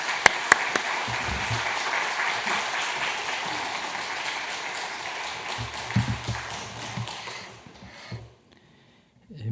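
At a Korean church's Wednesday prayer service, the congregation claps warmly to welcome a missionary back from Indonesia. The dense applause goes on for about eight seconds with a few sharp claps up close, then stops, leaving near silence.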